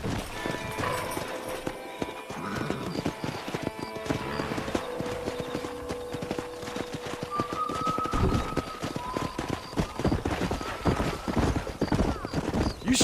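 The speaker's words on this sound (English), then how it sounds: "That ranch hand said there's a pack of wild horses nearby." Wild horses from the video game Red Dead Redemption gallop past in a herd, with dense, rapid hoofbeats, occasional neighs and whinnies, and the drumming growing louder and closer toward the end.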